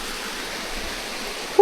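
Steady broadband rush of a shallow creek flowing over rocks in Ilian, continuous and fairly close, with no voices and a small knock at the very end.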